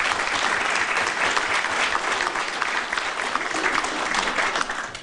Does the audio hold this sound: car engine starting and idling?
no